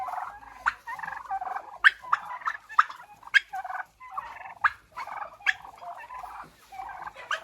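Free-range turkeys foraging outdoors let out a string of sharp gobbles, about eight bursts spaced irregularly, loud and close with quiet gaps between.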